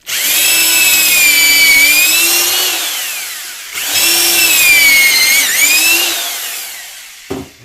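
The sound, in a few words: drill with Kreg bit drilling drawer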